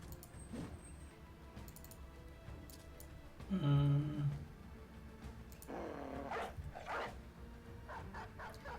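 A war dog in the Battle Brothers video game gives a short bark amid a busy, low battle-sound bed, with a few other brief yips and rustles scattered through the background.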